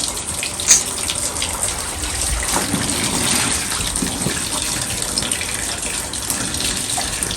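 Kitchen tap running hard during cleaning, a steady close gush of water splashing into a sink that continues unbroken, with faint clatter in the background.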